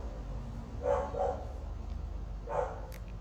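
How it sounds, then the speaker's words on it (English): A few short dog barks ring out, two close together and then one more after a pause, over a low steady background hum. "dog barking"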